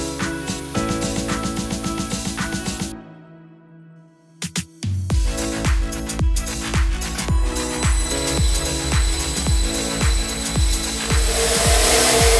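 A homemade Arduino-controlled belt grinder on its first test run gives a loud rhythmic mechanical clatter and whir, stops briefly, then starts again with steady repeating thumps.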